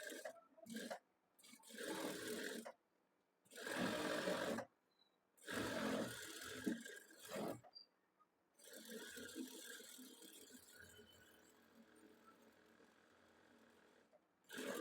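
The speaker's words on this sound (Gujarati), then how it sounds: "ત્યારબાદ આપણે અંદરની તરફ એક સિલાઈ લગાડવાની." A sewing machine stitching a blouse neckline, running in several separate bursts of whirring stitching with short silent pauses between them and a longer final run. It is close and moderately loud, with no talking.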